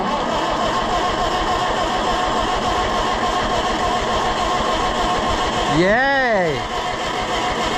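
An Oliver 1250 tractor engine cranks and runs as a steady, loud mechanical drone throughout, with a brief rising-and-falling whine near the end and a person cheering over it.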